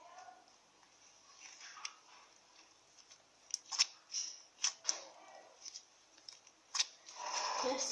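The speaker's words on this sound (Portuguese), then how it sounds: "Eu vou filetar uns panfletos" Scissors snip through paper flyers near the microphone, a run of sharp clicking cuts that speed up toward the end, followed by a rustle of paper.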